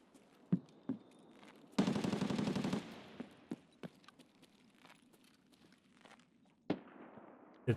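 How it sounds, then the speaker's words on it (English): Gunfire in the video game Escape from Tarkov: a dense automatic burst of about one second rattles loudly mid-clip, with scattered single shots and sharp cracks before and after against a quiet background. "there's a lot of shooting going on right now"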